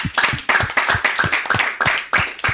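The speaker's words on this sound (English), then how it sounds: "We are going to clap for Mandela again." Audience clapping for Mandela, heard as loud, close, rhythmic claps in unison, roughly four per second, evenly spaced and sustained, with no talk over them.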